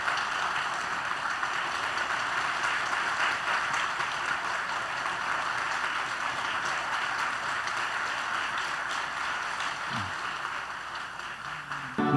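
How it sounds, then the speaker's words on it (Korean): Church congregation applauding at a ceremony installing a senior pastor, a continuous, even roar of many hands clapping that holds steady throughout without talk. "우리 전달할 때 큰 박수로 축하해 주시기 바랍니다."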